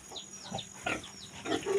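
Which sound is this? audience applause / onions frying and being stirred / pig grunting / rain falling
pig grunting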